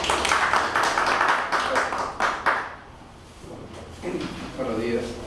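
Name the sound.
audience applause welcoming a speaker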